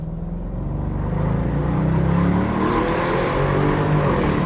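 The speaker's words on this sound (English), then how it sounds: "Wow, listen to that exhaust note." A previous-generation Bentley Continental V8S revs hard, its V8 exhaust note rising and swelling into a loud, sustained roar close to the mic for several seconds.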